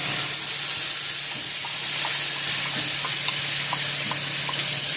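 Ginger and green chilli paste sizzling in hot oil in a home kitchen pan, a steady loud frying hiss with small pops and spatters throughout.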